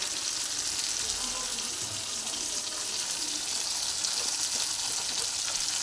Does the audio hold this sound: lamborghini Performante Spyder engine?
no